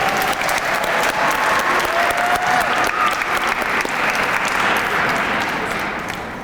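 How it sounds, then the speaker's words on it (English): An audience in a school auditorium applauds after a student performance of The Wiz with loud, continuous clapping and faint cheering from the crowd, easing off slightly at the end. "Can we get another round of applause?"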